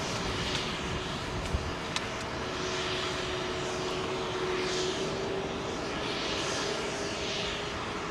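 A heavy, fuel-laden airliner departing London Heathrow runway 27L, a steady broad engine roar with a faint whine, sustained throughout at moderate distance, no voices.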